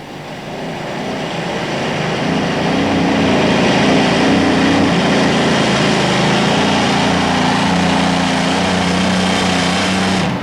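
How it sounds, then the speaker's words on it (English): A modified pulling tractor powered by two Allison aircraft engines roars steadily and loudly throughout, a dense sustained engine drone with a slowly shifting pitch during the pull. "2 Allison aircraft engines supplying the power."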